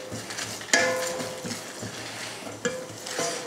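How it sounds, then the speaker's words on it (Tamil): Masala with dried red chillies roasts in oil while being stirred, soft sizzling under repeated scraping and clinking of a spoon against the pan, with a few sharper metallic taps. "எண்ணெய் சேர்த்துட்டு மசாலாவை வறுத்தரலாம்"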